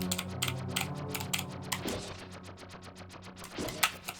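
Rapid computer keyboard typing during practice for a Zelda: A Link to the Past game, with steady clicky keystrokes in bursts over a constant low hum, no speech.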